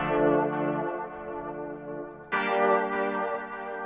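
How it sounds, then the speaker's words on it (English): A sustained buzzy analog synth tone with a slow sweeping, swirling phaser and stereo panning, shifting to a brighter chord partway through, played alone. "Let's do a phaser."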